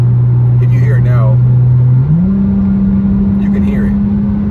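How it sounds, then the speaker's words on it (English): V6 car exhaust fitted with Flowmaster mufflers, heard from inside the cabin: a steady low engine drone that steps up in pitch partway through as revs rise, loud and continuous with faint background sounds. "But it's also not so insulated to where you don't hear the exhaust"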